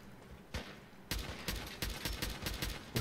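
Rapid bursts of gunfire from Fallout 4 PC gameplay, with a lone shot followed by a dense run of repeated loud cracks at a fast, uneven rhythm, close and unaccompanied by talk.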